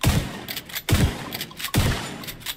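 A KSG pump shotgun fires three heavy, booming shots in The Division 2 game, evenly spaced a little under a second apart, with short mechanical clacks between the blasts.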